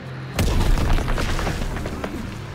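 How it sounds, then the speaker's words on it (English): A heavy explosion from a Fritz X bomb strike in Call of Duty WW2 booms up sharply, then a dense rumbling roar with scattered blasts rolls on. "Fritz X bomb mission underway"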